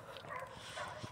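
A medium-sized mixed-breed dog about four years old gives a few faint, soft yips and whimpers in a brief quiet moment.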